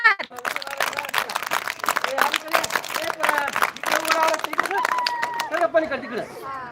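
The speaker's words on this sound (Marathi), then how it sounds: "पाचवीच्या मुलींसाठी टाळ्या वाजवा जोरात" Children clap for fifth-grade girls at a school sports event, a busy patter of many small hands under steady crowd chatter and talking voices.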